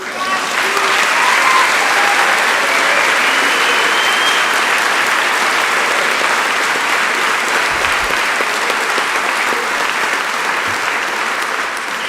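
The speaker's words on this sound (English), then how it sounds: "Give yourself a round of applause." Audience applause at a community theatre performance in Watertown, Wisconsin, a large crowd clapping loudly and continuously for about twelve seconds in a dense, even roar of hands, with faint voices beneath.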